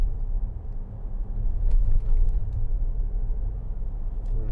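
A 2011 Land Rover Discovery 4 3.0 SD V6 rolls over a very bumpy road, heard from inside as a continuous deep, low rumble of road and engine noise with faint knocks and rattles over the bumps.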